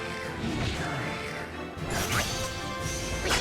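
Rapid video game slash dance attack: slashing and crashing impacts with swooshing sweeps, dense and layered, building into a bright burst near the end.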